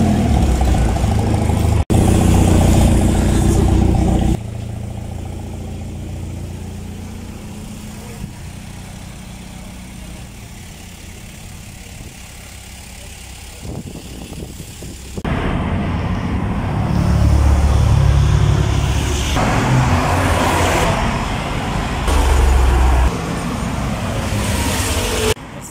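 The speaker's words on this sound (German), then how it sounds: "ein 6er Rennwagen, wie es ausschaut." A 6 Series race car passes at a car-spotting event, its engine roaring loudly with rising and falling rev surges over steady road and traffic noise.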